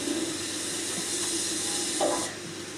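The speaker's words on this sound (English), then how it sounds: "Locomotive number 35005, Merchant Navy Class Canadian Pacific, built in 1941 by the Southern Railway, is being prepared for its day's duties." Merchant Navy Class steam locomotive 35005 Canadian Pacific, built in 1941 by the Southern Railway, vents a steady broad steam hiss while being prepared for duty, cutting off abruptly near the end.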